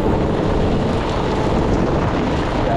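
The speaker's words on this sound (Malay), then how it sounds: "Angin kuat guys." Strong stormy wind during a river prawn-fishing outing roars steadily and loudly across the microphone, a dense continuous rumble with no break and no voices.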